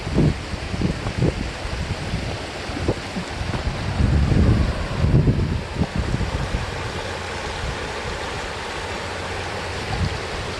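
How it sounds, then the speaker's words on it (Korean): A stream rushes steadily outdoors, a broad continuous flow of water with some wind buffeting the microphone. "물소리만 들어도 힐링이 되겠는데"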